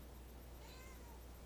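A cat gives a single short meow partway through, faint against a steady low hum in a quiet indoor room.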